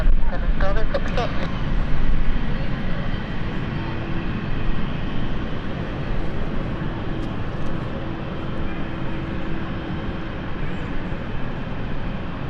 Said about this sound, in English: So our Nice flight is now taxiing.